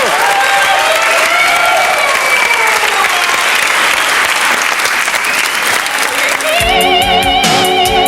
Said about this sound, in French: Dorothée, mesdames, messieurs, on l'applaudit.